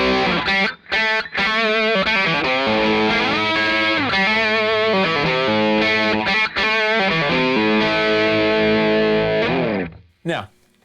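Red Witch Famulus distortion pedal running both distortion circuits blended in parallel, giving a thick, rich overdriven guitar tone with sustained chords and melodic runs, loud and continuous before cutting off near the end.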